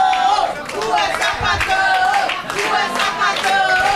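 Loud audience applause fills a Brazilian seminar hall on LGBTQIA+ public policy, with dense continuous clapping mixed with cheers and crowd noise throughout.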